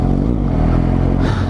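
New Suzuki GSX-S750 motorcycle with 750 cc engine being ridden gently on fresh tyres, a steady loud low engine drone throughout with a rising rev near the end.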